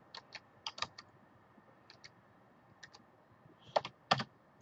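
Light typing on a computer keyboard, quiet scattered clicks in short bursts with pauses, ending with a couple of louder, sharper keystrokes near the end.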